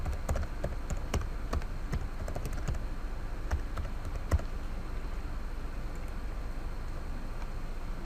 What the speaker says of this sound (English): So I type in my login.